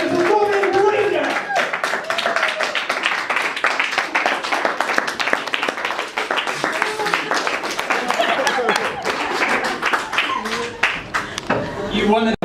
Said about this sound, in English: So if you want to put your drinks down and get clapping, we get clapping.